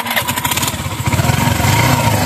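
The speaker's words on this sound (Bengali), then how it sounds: "আমরা যদি বাইকের সাউন্ডটা শোনাই" A scooter engine runs close by in a showroom setting, a loud rapid putter that steadies into an even, throaty idle with no talk over it.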